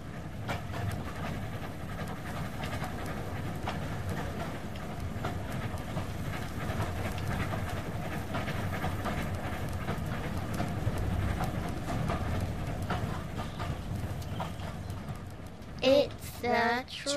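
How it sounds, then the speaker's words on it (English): A moving train rolls along the track with a continuous rumble and faint rhythmic clatter from the wheels, then a few louder knocks near the end. "It's the sound of the wheels of the train as it moves along."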